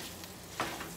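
Three frozen pork sausage patties being crumbled in a hot pan, a brief soft sizzle with one quick scraping crunch near the end.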